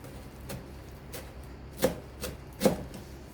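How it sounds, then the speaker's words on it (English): A knife chopping fresh coriander on a board, a few soft, sparse cuts, two of them more distinct, close and quiet without talk. "Fresh bunch of coriander. So I'm just going to take a little bit of it off the top here and try to chop it up nice and small for you."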